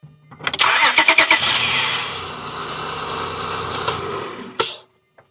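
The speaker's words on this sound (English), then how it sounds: "Yeah, wow, that cranked fast" An Acura TL V6 cranks quickly with a rapid chugging starter rhythm for about a second, then catches and runs at a steady idle close up before shutting off with a short clunk.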